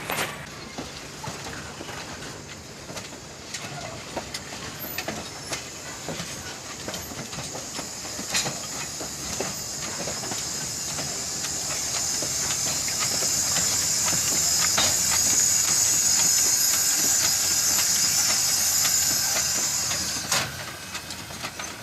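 Lehigh Valley Coal number 126, a 0-6-0 saddle tank steam locomotive, works past with a steady hiss of steam and rhythmic clanking, swelling in loudness through the middle before easing off.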